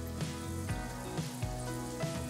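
Chopped garlic and parsley sizzle steadily in a hot pan, with a dense, even frying hiss and occasional soft bumps as the pan is stirred, close and fairly loud.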